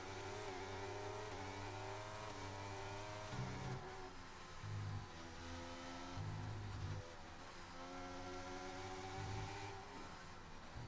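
A Formula 1 race car engine from the F1 23 racing game drones steadily, rising and falling as it revs through gear changes. The engine plays alone at a constant level for the whole stretch.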